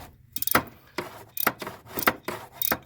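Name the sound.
ratchet turning socket to loosen spark plug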